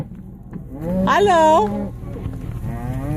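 A single drawn-out moo from cattle on a Colorado cattle drive, loud and close beside a vehicle, followed by low rumbling noise; a person briefly speaks.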